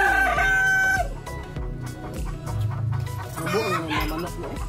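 A rooster crows from nearby in a backyard, one drawn-out call heard early and a second rising call near the end, with people talking throughout and low background hum.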